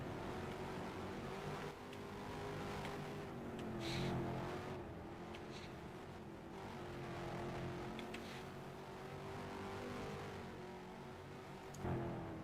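Race car engine in a sports car racing video game, with the car approaching the checkered flag; a steady, fairly quiet engine drone runs throughout with slight pitch shifts and minor swells.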